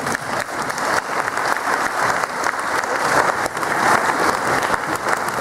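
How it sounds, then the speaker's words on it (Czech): A large audience gives a big, sustained round of applause after a dance performance, dense clapping filling the space steadily and growing slightly louder toward the end. "kdybyste udělali velký potlesk"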